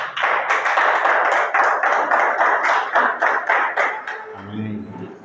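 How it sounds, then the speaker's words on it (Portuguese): Church congregation clapping hands in a steady rhythmic beat, loud and close, the claps fading into a murmur of voices and a low hum toward the end. "batendo as palmas para Jesus, amém?"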